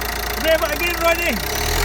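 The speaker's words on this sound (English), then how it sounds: "Rev it again, Roddy." A Renault Mégane III 1.5 dCi diesel engine from 2009, which has a cold-weather extended-crank fault, is revved briefly above its idle. Engine pitch rises and falls once, and a person speaks over it.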